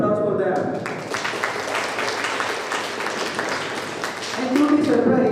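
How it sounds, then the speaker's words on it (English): A crowd claps steadily at a 2023 Disha Bengaluru chapter gathering: dense, continuous applause that stays fairly loud throughout, with a denser, louder swell near the end. "A big round of applause for them."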